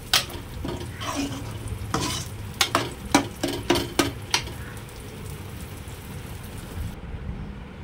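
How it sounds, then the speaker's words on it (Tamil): Cooked moong dal being stirred into a simmering bottle gourd curry: a run of quick, rhythmic scraping strokes against the pot, close and clear over a soft bubbling sizzle, with no talking. "வேக வச்ச சிறுபருப்பு சுரக்காவோட கலந்துடலாம்"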